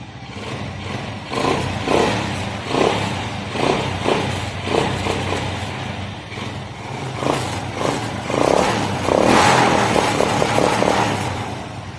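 A small Cup motorcycle engine fitted with an open performance air filter runs close by, a steady loud buzzing idle with brief throttle blips that rise and fall.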